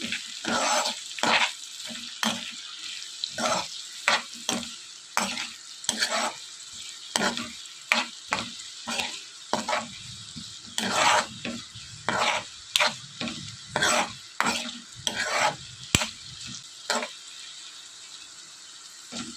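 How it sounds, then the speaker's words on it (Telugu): Onions fry in a pan with salt and turmeric for a chicken liver fry, a steady sizzle broken by regular, rhythmic scraping stirs of a spoon against the pan. "ఈ ఆనియన్స్ అన్నీ కూడా బాగా ఫ్రై చేసుకోవాలి"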